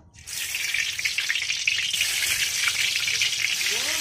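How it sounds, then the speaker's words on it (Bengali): A loud, steady sizzle of eggplant slices hitting hot oil starts abruptly and keeps crackling close by without a break. "তেলটা গরম হয়ে গেছে, এখন আমি বেগুনগুলো ছাড়বো।"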